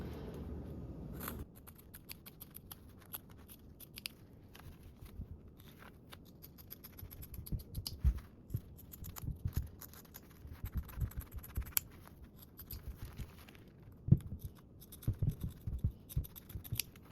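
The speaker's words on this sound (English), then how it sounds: "We're gonna trim our seam allowance to 1/8, making sure you do not clip into any of your main panel." Scissors snipping fabric to trim a seam allowance on a small sewn bag panel, a steady run of quiet, close cuts with irregular spacing, the clicks growing denser toward the end, no voices.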